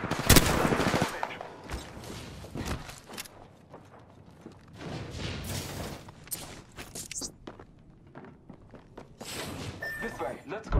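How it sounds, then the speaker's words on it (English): Bursts of gunfire aimed at the player in the battle royale shooter Apex Legends, sharp cracks and rapid volleys scattered throughout with footsteps and other combat noise between, loud and close. "Shot fired at me."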